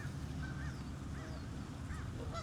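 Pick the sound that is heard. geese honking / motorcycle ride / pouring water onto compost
geese honking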